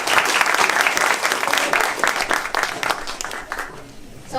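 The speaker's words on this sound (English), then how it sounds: "Everyone give Nadine a round of applause" Audience applause at a spring magic show: a dense, steady wash of many hands clapping throughout, easing slightly toward the end, with no talk over it.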